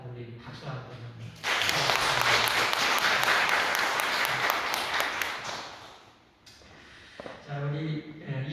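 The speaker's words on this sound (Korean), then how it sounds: "우리 박수 한번 합니다" A church congregation at a Sunday morning worship service bursts into loud, sustained applause lasting about five seconds, framed by a pastor's speech before and after.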